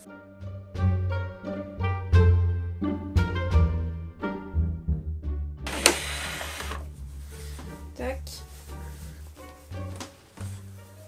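A sewing machine stitches fabric edges together for a bow tie, running in short rhythmic bursts with pauses, then a longer noisier stretch; no one speaks.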